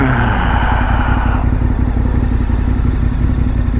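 A KTM 1290 Super Adventure motorcycle engine roars steadily and close as the front wheel lifts, with a brief higher surge fading at the start.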